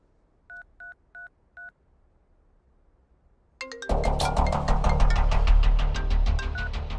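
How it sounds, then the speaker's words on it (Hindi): Four short, evenly spaced telephone keypad tones sound clearly in a quiet room. After a brief pause, a loud burst of broadband noise with rapid clicking takes over and continues to the end. "अनिल को फोन लगा।"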